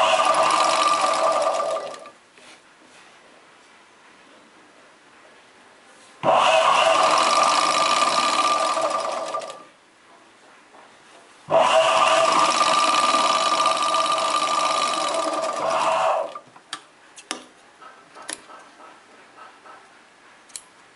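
A sewing machine stitches a chudidar pant in three long bursts of steady, loud whirring separated by quiet pauses, then a few short clicks and taps at the end, with no talk.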